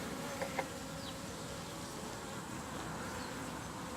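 Honeybees swarm around an open hive, drones among them, in a faint, continuous buzz with a few brief louder wingbeats passing close early on and no talking.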